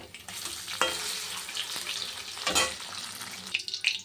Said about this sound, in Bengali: চিকেনটা ভাজা হয়ে গেছে